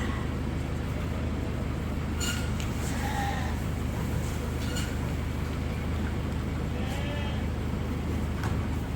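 Sheep and lambs bleat a few times at moderate distance during indoor feeding over a steady, loud rumbling background noise, with no voices.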